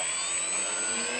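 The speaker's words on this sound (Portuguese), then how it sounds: "Nossa, sobrou o motor, hein, Mário?" A small model ultralight aircraft engine on its first flight, heard as a loud, continuous high-pitched buzzing whine that stays steady and close throughout.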